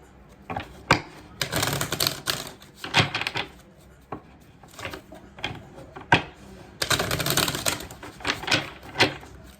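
Cards from an oracle deck are handled and pulled, producing bursts of papery shuffling and flicking with sharp snaps in between, fairly loud and close, with no speech.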